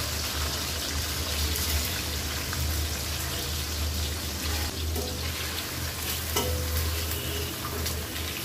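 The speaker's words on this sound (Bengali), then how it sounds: "ডিমটা ভেজে রেখে দিব।" Quail eggs fry in a pan of hot oil on a village kitchen stove, giving a dense, continuous sizzle with faint stirring and scraping, steady and close throughout with no talking.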